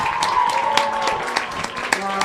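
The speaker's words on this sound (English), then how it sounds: "Let's give a great big round of applause for all our seniors tonight." Crowd claps at a senior night for a ladies soccer team, brief scattered applause under a stadium PA with tonal hum, a few sharp individual claps standing out over about two seconds.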